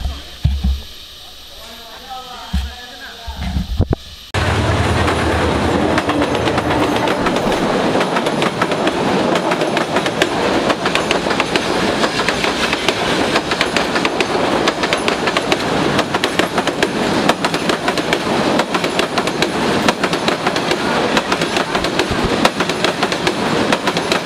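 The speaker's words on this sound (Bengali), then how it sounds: "এদিক দিয়ে ট্রেন গেল একটু আগে" A train runs along the Dhaka–Sylhet and Dhaka–Chittagong line near Sreemangal: after a few seconds of quiet with brief voices, a loud, continuous rumble with clickety-clack of wheels on rails fills the rest.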